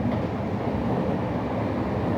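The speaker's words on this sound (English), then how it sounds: "This train is like going almost half as fast as a bullet train." Steady, low rumbling roar of a passenger train in motion on the rails in India, heard from inside, continuous and fairly loud with no voices.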